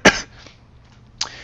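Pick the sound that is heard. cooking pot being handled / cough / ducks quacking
cough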